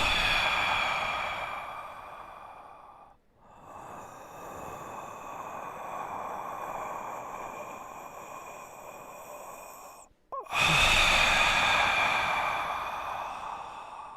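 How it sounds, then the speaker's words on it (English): A long, heavy breath drawn and pushed close into a microphone, a steady breathy rush with a short pause midway and a louder, sharper intake near the end, with no talking. "Can we get a deep, heavy breath?"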